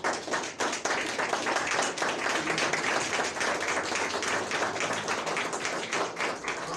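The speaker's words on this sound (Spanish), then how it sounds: "¿Cuántos le pueden dar un aplauso al Señor?" Church congregation applauding during a Sunday service, a steady dense wash of many hands clapping throughout, fairly close and continuous with no talk over it.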